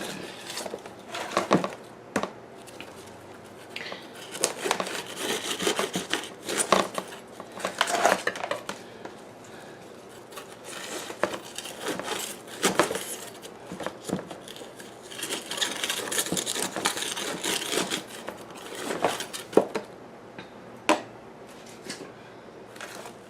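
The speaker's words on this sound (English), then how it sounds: "I'm going to use my trusty butter knife again to kind of loosen up away from the pot." A metal butter knife scrapes and clinks around the inside of a plant pot to loosen the soil, a quiet, close run of irregular scratches, taps and gritty scraping with no voices.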